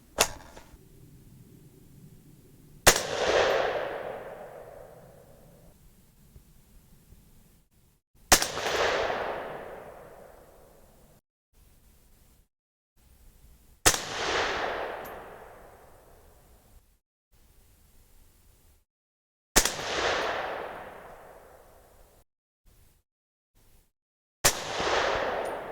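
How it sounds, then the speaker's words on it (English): Five suppressed gunshots from a SilencerCo Omega 36M rifle suppressor, each a sharp crack with a short decaying tail, spaced several seconds apart with near silence between them. "So let's do another 5-shot group."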